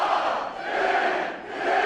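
A wrestling arena crowd chants and cheers for Rob Van Dam during his match against Johnny TV, a dense sustained roar rising and falling in waves, with no nearby talk.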